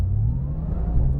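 A car accelerates on a test drive, its engine giving a steady, close, low rumble with a faint rising tone and no talking.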